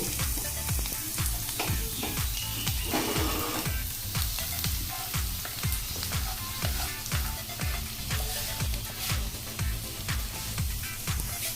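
Onions frying in hot oil until light brown for a Bengali katla fish dish, a dense continuous sizzle broken by rhythmic stirring scrapes, close and steady.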